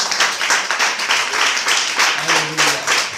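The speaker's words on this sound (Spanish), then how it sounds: "¿Por qué no le damos una ofrenda de palmas al Señor?" A church congregation claps in unison as a spiritual offering, steady rhythmic handclaps throughout with a faint sung or spoken voice underneath.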